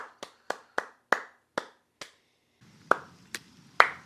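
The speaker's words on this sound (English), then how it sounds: "Nobody clapping but me." One person clapping hands alone, about a dozen sharp, evenly spaced claps at close range, briefly slowing mid-sequence before resuming with a low background rumble.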